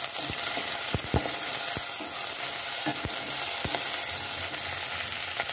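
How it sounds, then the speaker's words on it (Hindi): Ginger and green chilies frying in a pan of oil for a ridge gourd curry, a steady bright sizzle throughout with several sharp spatula knocks and scrapes against the pan, close and alone. "अब इसमें हम अदरक डालेंगे और हरी मिर्ची डालेंगे"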